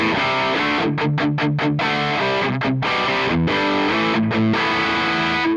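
A heavily distorted electric guitar through an amp simulator with a ribbon mic plays a chugging riff with short stops and sustained chords, thick amp crunch filling the sound, no voices.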